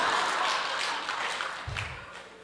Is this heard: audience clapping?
yes